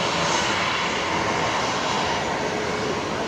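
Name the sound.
Qantas Link Embraer 190 airliner arriving at Brisbane Airport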